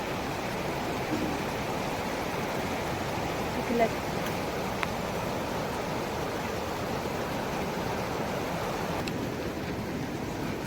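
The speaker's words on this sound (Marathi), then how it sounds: "पाऊस आला बघा जोरात" Heavy rain falling over farm fields, a steady, dense, even hiss with no breaks, heard close and loud throughout.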